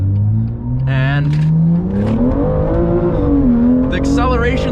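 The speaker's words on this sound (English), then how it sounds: "those aggressive downshifts, you hear the intake as you're downshifting" A BMW M car engine revs and drops through gears, the intake roaring between downshifts, loud and close from inside the car, with a voice speaking briefly over it.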